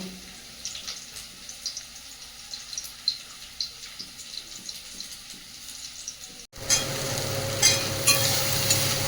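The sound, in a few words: prawns, brinjal and potato frying together in pan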